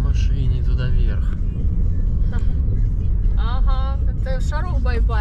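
Car driving uphill, a heavy low engine rumble filling the whole stretch while people talk over it throughout.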